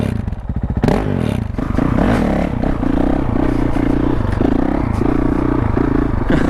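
Honda CRF450L motorcycle on its stock exhaust runs loud and close, a rough idle that picks up into repeated throttle blips with a steady pulsing engine note and some mechanical clatter.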